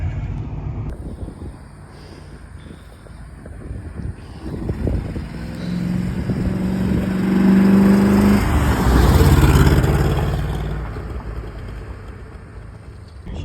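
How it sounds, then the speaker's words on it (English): A 1994 Corvette V8 drives and revs, its low engine rumble rising and swelling to a loud peak midway before easing off, heard close with no talking. "she moves, she runs, she drives, and she sounds like a V8"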